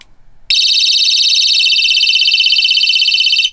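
A Boruit V30 EDC flashlight's built-in 120-decibel personal alarm blares a piercing, steady warbling electronic shriek, very loud and close, starting abruptly after a brief quiet moment and holding for about three seconds before cutting off.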